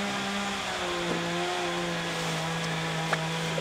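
A power saw drones steadily with a sustained hum and gradually shifting pitch, no pauses, some faint clicks on top.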